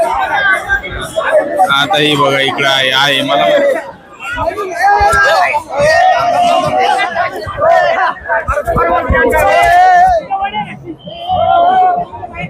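A large crowd of pilgrims gathers around a stopped palanquin procession, a close, busy babble of many voices with someone talking over the chatter nearby.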